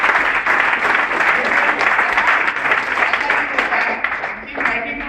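Audience at a motivational seminar gives sustained, loud applause for several seconds, with a few voices mixed into the clapping before it tapers at the end.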